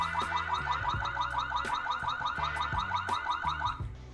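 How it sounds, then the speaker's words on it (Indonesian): The siren alarm of an ACOME APC31 outdoor PTZ security camera wails loudly in a rapid, repeating electronic warble, steady and unbroken for several seconds before cutting off at the end. "Fitur unggulan APC31 yaitu sirine alarm."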